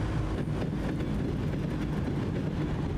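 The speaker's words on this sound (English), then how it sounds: "I hear a train. Oh, that is train tracks." A train rolls past on railroad tracks in the American Truck Simulator driving game, a dense, steady rumble with faint clatter that stays loud and even throughout.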